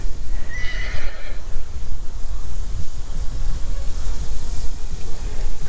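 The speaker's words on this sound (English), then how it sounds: "Horses bark. Nothing wrong with that." A horse beside a bike path gives one loud, shrill whinny that trembles for under a second, then low snorting and shuffling noises continue close by over steady outdoor wind noise.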